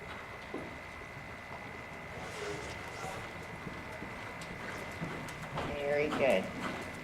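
A Haflinger horse's hooves clip-clop in a quick, light rhythm, faint and steady under a person talking encouragingly, with a constant background hum.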